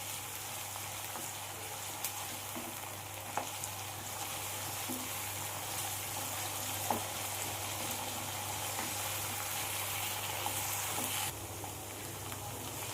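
Onion frying with ginger-garlic paste in a pan for a tilapia fish dish sizzles continuously and fairly loudly throughout, with a few faint clicks from a utensil and no talking.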